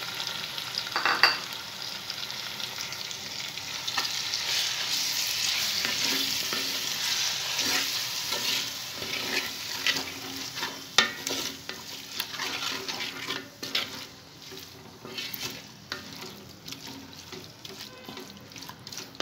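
Marinated chicken frying in a pan for homemade chicken biryani, with a steady close sizzle and occasional stirring scrapes that thin out toward the end.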